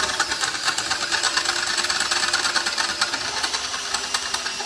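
A drill bit bores through stainless steel while a mirror bracket is fitted to a Peterbilt 379 truck. The motor whines and grinds steadily and loudly for the whole stretch, close by, with no voices.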